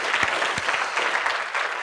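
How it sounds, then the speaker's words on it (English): An audience at a conference talk gives a round of applause, a steady, even wash of many hands clapping at a moderate distance. "So I'd like to give a round of applause for Kate wherever she's at"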